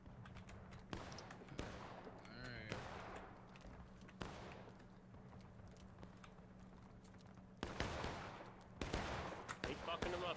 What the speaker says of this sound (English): Fucking him up with rifle fire right now.